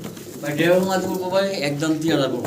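Female fancy pigeons coo in soft, rolling bursts close by, while someone talks over them the whole time.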